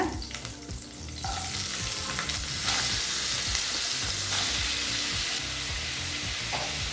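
Steady, loud sizzling of finely chopped potatoes frying in hot oil with curry leaves, with occasional clinks and scrapes of stirring throughout; no voices.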